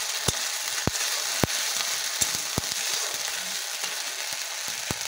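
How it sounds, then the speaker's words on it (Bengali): Ginger, garlic and onion paste sautéing in a pan, a steady close sizzle broken by several sharp clicks and taps of a spoon against the pan, with no voices. "আদা রসুন বাটা, পেঁয়াজ বাটা। এবার এটা ভালো করে কষাতে হবে।"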